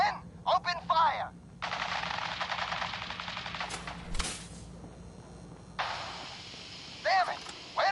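Soldiers open fire in the game Fallout: bursts of rapid automatic gunfire in several sustained volleys, separated by short gaps with a sharp crack in between, and brief shouted voices at the start and near the end.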